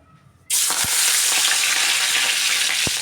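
Curry leaves dropped into hot oil in a pan burst into a sudden loud, steady sizzle that continues close up without any speech.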